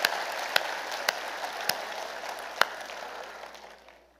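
Light applause from a congregation at a Marian day family and spiritual pastoral conference, a soft steady patter of clapping with a few sharper claps, fading out at the end.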